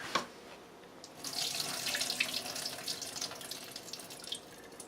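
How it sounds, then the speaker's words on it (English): Water drains from a hydroponic seed tray in a soft, continuous trickle. It starts faint, then runs steadily at a low level, with no talking. "Alright, so we'll drain the water on this side, and we'll be ready to put some seeds in there."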